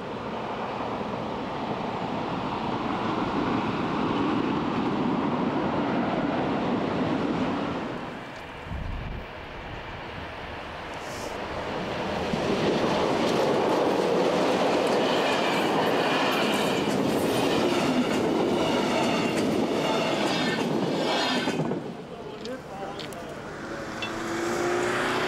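A class 112 electric locomotive hauls a train along the Saalebahn line, a loud sustained rumble and rush that dips briefly midway, then swells again into a long roaring pass with rising metallic hiss.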